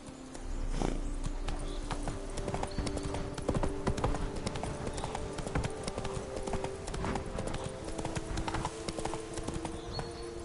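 Roach, the horse in The Witcher 3: Wild Hunt, gallops with steady, rapid hoof clip-clops that run continuously and sit close and loud in the mix, alongside game ambience.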